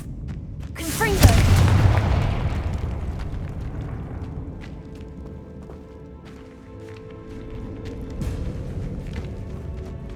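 A Confringo blasting spell detonates inside a crypt by an altar in the Hogwarts Legacy video game, one sharp booming explosion followed by a rumbling decay, with softer game sounds after and another thud near the end.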